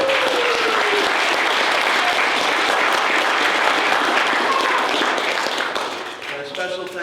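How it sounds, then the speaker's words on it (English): An audience applauds a group of kids after a stage performance, steady loud clapping filling the room and tapering off near the end as a voice begins to speak. "give these kids another round of applause"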